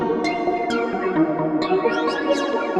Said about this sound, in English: Let's make it sound more intense for feedback.